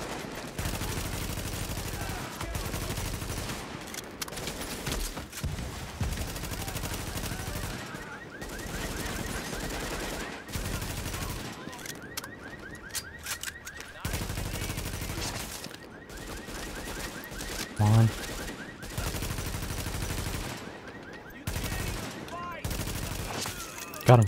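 Sustained rattling gunfire runs almost without pause through a firefight in The Division, with bursts of differing loudness and a voice talking over parts of it.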